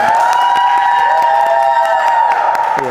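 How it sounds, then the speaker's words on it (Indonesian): Studio audience at an Indonesian TV talk show breaks into loud, continuous clapping and cheering for about three seconds, with a steady tonal music bed running underneath. "Yes, tepuk tangannya."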